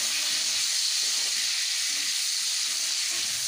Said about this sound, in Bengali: এই ফোড়নের মধ্যেই সবজিটাকে ভেজে নিতে হবে